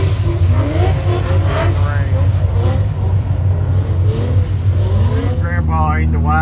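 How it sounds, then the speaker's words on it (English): A car drifts at the NMRA Holley Fordfest, its engine droning and revving continuously from close by, with tires and exhaust loud under someone talking throughout. "Drifting out there."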